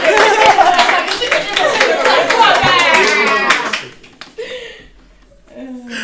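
A small group of people clap together indoors for a few seconds, a dense burst of hand claps mixed with voices and laughter that fades out midway, after which talking continues alone.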